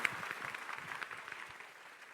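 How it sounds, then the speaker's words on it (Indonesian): Quiet, distant clapping from a church congregation during a Christian sermon, a soft patter of many hands that thins out toward the end. "Itu tepuk tangan menyambut poin kedua."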